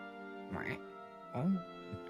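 A game master's voice imitates a duck's quack during a Dungeons & Dragons session, giving two short nasal quacking calls with a brief trailing sound, close and fairly quiet.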